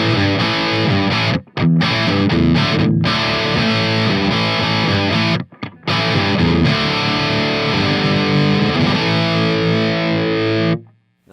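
Heavily distorted 70s classic-rock-style electric guitar through a Carvin V3M amp, playing chords and riffs, dry and upfront with no reverb tail, briefly cutting out twice before ending abruptly.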